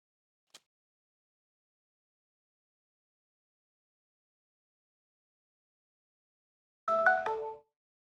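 A phone plays a reminder alert: a single short tonal chime near the end, after a long stretch of near silence broken only by one faint click.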